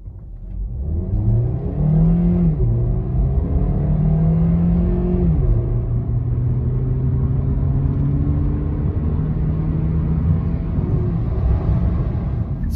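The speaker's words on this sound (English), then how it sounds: "let's see what it's like as we go onto the motorway from 0 up to 120 kilometers an hour" A 2017 Hyundai Ioniq hybrid accelerates from a standstill onto a motorway toward 120 km/h, its engine note rising and falling with gear changes before settling into a steady drone under tyre and road rumble.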